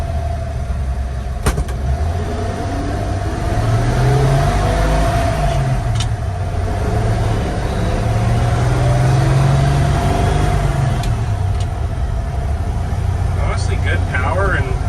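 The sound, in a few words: 1951 GMC 3100 pickup truck engine, 228 inline six, downshifting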